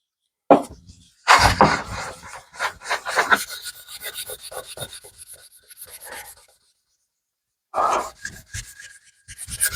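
Cloth or hand rubbing finish into a wooden board, a series of close, dry scrubbing strokes in bursts with a pause near the end before rubbing resumes.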